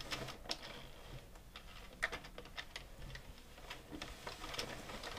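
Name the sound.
Addi knitting machine knitting back and forth across rows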